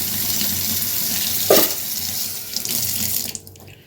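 Tap water pours steadily into a sink during washing, with a brief splash partway through, before the flow stops abruptly near the end.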